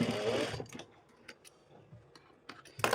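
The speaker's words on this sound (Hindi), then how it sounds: "मैं सिलाई लगा लेता हूँ।" A sewing machine stitching an overlap neck design on a garment runs in a short close burst, then gives way to faint scattered clicks and ticks.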